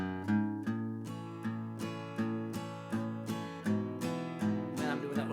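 A plucked guitar repeats the same low bass pattern over and over in a steady rhythm, played alone and close.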